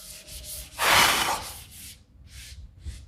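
A board eraser rubs out writing during a mathematics lecture, making one loud sustained scrubbing stroke followed by a few shorter, lighter rubs.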